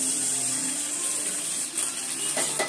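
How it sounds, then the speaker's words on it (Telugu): Water poured into a hot pan while cooking gobi manchurian, a steady close gush with no talk. "అండ్ ఈ వాటర్ పోసేసుకుందాం"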